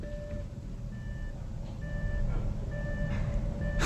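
Repeated electronic warning chime from a Chrysler LeBaron convertible with its door open, sounding as a steady series of evenly spaced tonal beeps over a low engine-like hum inside the car.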